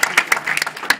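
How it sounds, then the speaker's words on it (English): An audience gives a round of applause, a short burst of close, loud clapping with uneven individual claps that overlaps with speech. "Give them a round of applause."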